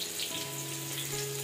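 Potatoes frying in a pan make a steady, close sizzle and crackle, a continuous hiss that goes on throughout without talk.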